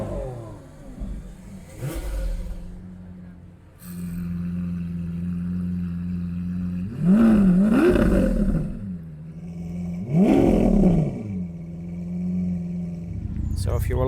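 A Lamborghini Diablo engine idles with a deep steady rumble at an Italian car day at Brooklands, then roars through several sharp throttle blips, loud and close, with someone talking over it.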